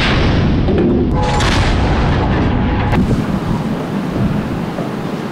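Naval missile launch during a large-scale military exercise at sea: a loud, continuous roaring blast that swells from the start and carries on with sustained rumble, briefly punctuated by a sharp crack near the middle before slowly tailing off.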